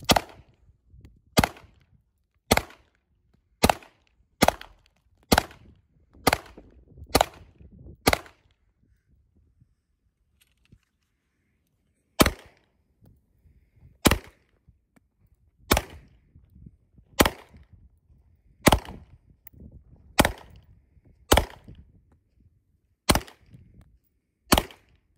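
A Beretta 92 Elite LTT pistol fires cheap Winchester steel-case ammunition, sharp loud shots in two strings of about eight with a short pause between, evenly spaced and close.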